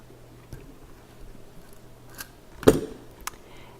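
Scissors or wire cutters snip artistic wire for a three-tiered earring, giving one sharp, close click that stands out from a few fainter ticks against a quiet background.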